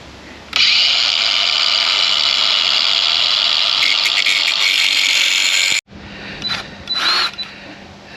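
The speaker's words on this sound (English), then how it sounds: "pull the grinder out" Angle grinder cutting during a roadside repair, a loud steady high-pitched whine for several seconds that cuts off abruptly, followed by quieter intermittent grinding bursts.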